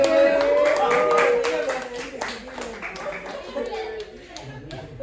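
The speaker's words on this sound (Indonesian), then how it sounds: "Oh, tepuk tangan." A handful of students in a classroom clap in scattered, close-up bursts while voices talk and call out over them, the clapping fading toward the end.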